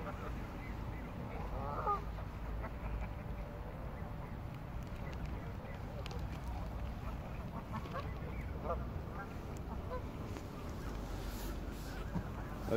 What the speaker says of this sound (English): it's a lot of ducks on her tonight